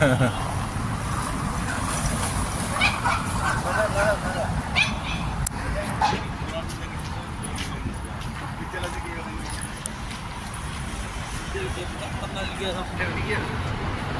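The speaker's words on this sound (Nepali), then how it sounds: "सानो कुकुर त भोग्ने गर्छ" A small dog barks in short, scattered yaps over steady outdoor rumble and background chatter.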